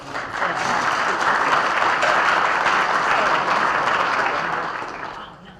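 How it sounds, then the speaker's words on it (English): Warm audience applause for the sponsors at an Owasso, Oklahoma chamber of commerce gathering: a full room clapping together, swelling quickly, holding steady, then tapering away. "Please give our sponsors a warm round of applause."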